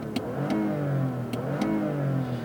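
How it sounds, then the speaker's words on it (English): A 2019 Lexus ES 350 F-Sport's V6 engine revs in its sport setting, a smooth, rising and falling drone with several short clicks over it, heard alone at moderate level. "It's a really silky smooth V6."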